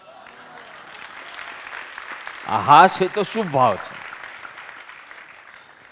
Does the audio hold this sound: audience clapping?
yes